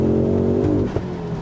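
A Mk2 Ford Focus RS with a five-cylinder engine pulls hard under acceleration, its loud, steady engine drone heard up close from inside the car before briefly easing off.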